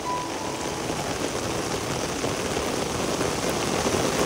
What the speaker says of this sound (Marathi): काय पाऊस आहे, कंटिन्यू पाऊस आहे